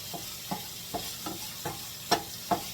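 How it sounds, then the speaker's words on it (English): Vegetables sauté in a pan with a soft, steady sizzle, punctuated by about seven evenly spaced scraping taps from stirring, the last two louder; close and fairly quiet, with no talking. "just let those saute till they get translucent"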